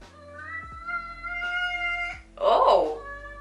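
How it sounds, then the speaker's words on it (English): Indoors at home, a cat jumps off a cat tree and meows, giving a short, clear meow burst near the end while someone talks throughout. "I just heard the cat jump off the cat tree."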